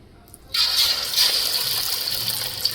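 Marinated fish pieces hit hot oil with a sudden loud hiss that settles into steady, bright frying sizzle close by, no talking.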